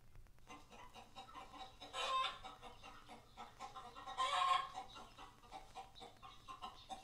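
Recorded turtle doves call in a few soft bursts, the clearest ones swelling up twice against a quiet, low rumbling background, with no voices present.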